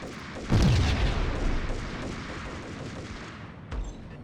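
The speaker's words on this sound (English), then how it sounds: "I could try to throw a grenade in here as well." A grenade blast in the PC game Max Payne, a loud close boom with a rumbling tail that fades over several seconds, followed by a second, smaller thud.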